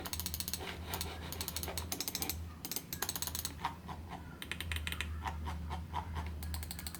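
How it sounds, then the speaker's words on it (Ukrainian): HyperX Pulsefire Fuse Wireless gaming mouse buttons clicked repeatedly up close, quick bursts of sharp plastic clicks with brief pauses, over a steady low hum and no talking. "Всі кнопки мають чіткий і приємний клік."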